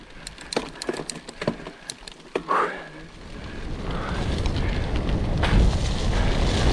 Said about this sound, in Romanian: Deci plouă, plouă bine.